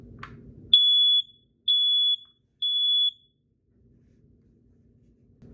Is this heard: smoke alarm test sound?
yes